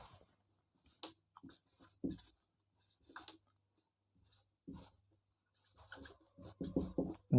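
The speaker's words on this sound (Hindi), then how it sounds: "इसकी डेफिनेशन लिखते हैं," A pen writing a definition on paper, soft scratchy strokes in short separated bursts with quiet gaps between them, close and faint, with no talking.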